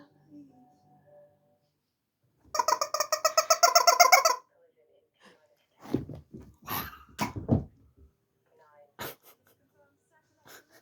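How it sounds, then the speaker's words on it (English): A squawky chicken dog toy lets out a rapid burst of about a dozen pulsing squeaks, loud and close, followed by someone talking to a small dog. "The squawky chicken."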